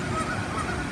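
Geese honking in a noisy flock, overlapping calls at moderate distance with no talking, by the Keeper of the Plains statue in Wichita, Kansas.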